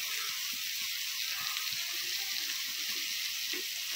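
Butter melts in a small pan over a gas flame, giving a soft, steady sizzle with faint crackling pops, close and alone with no voices.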